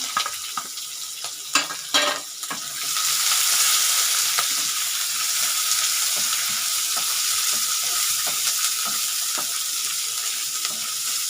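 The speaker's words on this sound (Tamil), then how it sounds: "கொஞ்சம் வெங்காயம் வதங்கிட்டங்க அவ்வளோதாங்க வதங்கிட்டு நம்ம கோஸ் போட்டுக்கலாம்" Chopped onion and green chillies frying in a pan for masala cabbage, a loud continuous sizzle after a few opening clinks and stirring knocks, with the spoon scraping now and then.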